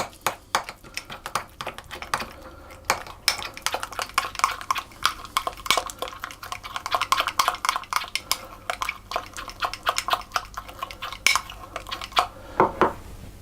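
A utensil mixes finely grated lemon zest for lemon icebox cookies in a bowl, making rapid, continuous clinks and scrapes against the bowl, close and steady throughout.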